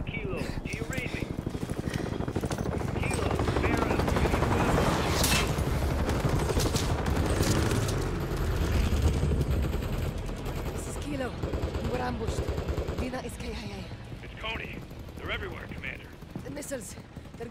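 Heavy gunfire crackles from several directions in a Call of Duty: Modern Warfare 3 battle, dense bursts and automatic fire sustained near and loud throughout, with radio-style voices talking over it.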